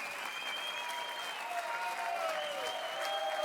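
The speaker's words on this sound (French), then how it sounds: "je crois qu'on peut l'applaudir très fort" Sustained applause from a crowd at a farmers' union campaign-launch rally, dense steady clapping with a few voices and tonal sounds mixed in, holding at an even level throughout.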